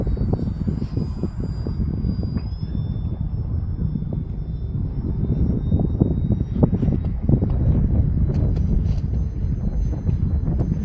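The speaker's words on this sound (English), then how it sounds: "Just a great flying plane." An E-flite Turbo Timber Evolution 1.5 m RC airplane flies on its last snow flight of the season, a steady electric motor whine with rising and falling pitch as it passes, mixed with wind buffeting on the microphone.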